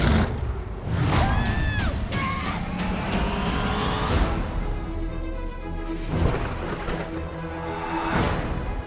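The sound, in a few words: station wagon car engine driving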